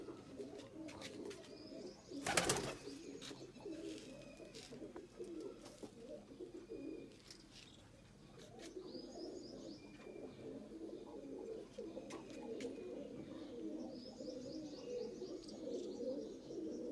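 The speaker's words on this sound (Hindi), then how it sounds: "देख ला कबूतर अपना" Pigeons coo in soft, low repeated murmurs, fairly faint and continuous, with a brief loud wing flutter or clatter near the start and occasional light chirps.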